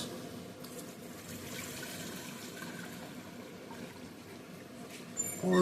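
Water and paydirt pour into a gold miller table, making a continuous rushing, splashing wash with a brief louder clatter at the end, no talking.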